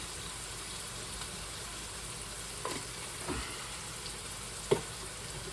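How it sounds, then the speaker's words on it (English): Mac and cheese seasoned with crushed black pepper and Italian seasoning is stirred in a pan, giving a low, steady sizzle with a few soft scrapes and one sharper utensil knock near the end. "And then we'll give that a good stir."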